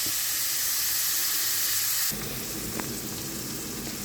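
Onions sizzle steadily in a frying pan as they are sautéed for a mushroom dish, a dense continuous hiss that shifts and intensifies partway through as they are stirred.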